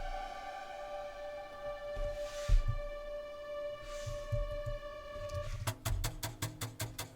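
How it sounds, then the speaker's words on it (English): An airy orchestral effects track for a video game score, sustained tones swelling and fading in soft waves, joined near the end by a quick rhythmic pulsing pattern. "A orchestral FX track. Very airy, coming and going."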